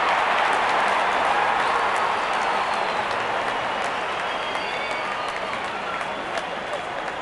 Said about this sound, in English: The crowd is enjoying every bit of this action.